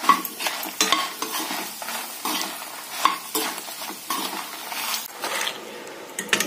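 Red chillies and tamarind are dry roasted in a pan and stirred repeatedly, giving scraping, rustling strokes with a faint sizzle in a steady uneven rhythm.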